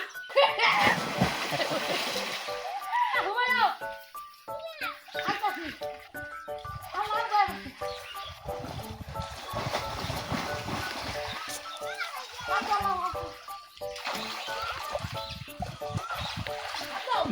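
People bathing and swimming in a shallow village pond during the dry season, with repeated splashes and sloshing water close by, mixed with lively talk, shouts and a dog barking.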